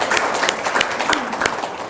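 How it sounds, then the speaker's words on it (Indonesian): Scattered clapping at a religious talk in Indonesia, a few sharp claps over a steady wash of noise, fairly near and moderately loud, with no talking. "Tepuk tangan dong"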